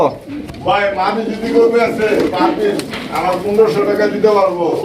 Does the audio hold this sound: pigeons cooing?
yes